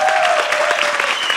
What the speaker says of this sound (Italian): E forse vi chiedo un altro applauso anche per Lucio Corsi.